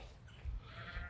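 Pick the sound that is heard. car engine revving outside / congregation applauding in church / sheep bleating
sheep bleating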